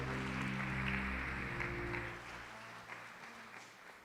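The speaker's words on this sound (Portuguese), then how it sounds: "Será que você pode aplaudir o Senhor?" A church congregation claps softly during a service, the faint, diffuse applause blending with a low, sustained musical drone that gradually eases.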